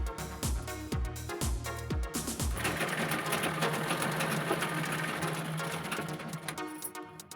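A sewing machine stitches the back part of palazzo pants, starting with a few short whirring bursts before settling into a steady, continuous run, close and fairly quiet.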